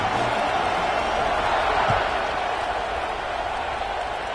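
At a football game, a stadium crowd roars and cheers just before the kickoff, a steady wash of noise with a sharp knock partway through and a commentator talking over it.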